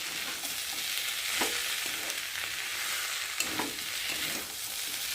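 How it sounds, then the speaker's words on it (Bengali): Banana flower (mocha) curry with soft, mashed potatoes being stirred in a pan: a steady close sizzle broken by slow, repeated spatula scrapes every second or so, no talking. "আর এখানে একটু ভালো করে নাড়াচাড়া দিয়ে"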